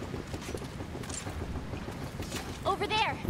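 A boat engine churns through water in the video game Resident Evil 6, a steady rumbling wash with splashy hiss throughout. A brief voice-like warble rises near the end.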